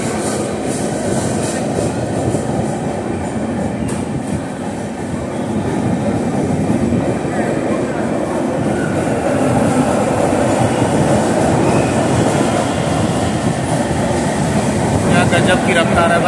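An Intercity Express train running from Valsad to Vadnagar, just after departing Surat and gaining speed, heard from inside the coach as a loud, steady rumble with rhythmic wheel clatter.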